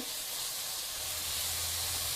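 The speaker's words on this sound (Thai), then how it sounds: "ลวนให้หมูมันมีกลิ่นหอม ๆเนี่ยให้มันเหลืองๆหอมๆ" Pork belly sizzles and hisses steadily in a hot pan during stir-frying for a sour papaya curry, a continuous close frying noise with no talk.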